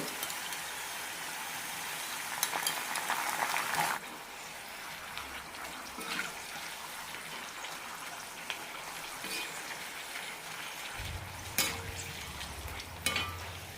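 Sweet potato chips frying in hot oil after a sprinkle of salt water, a steady crackling hiss that swells early, then settles into quieter bubbling with occasional sharp pops near the end.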